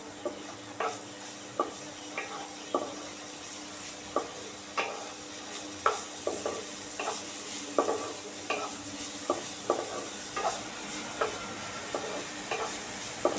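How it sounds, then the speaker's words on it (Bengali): Cashews and raisins fry in ghee while a spoon stirs them, giving a soft continuous sizzle under regular, close scraping taps of the utensil against the pan. "এই কাজু আর কিশমিশটা একটু ভেজে নেবো ঘিয়ে"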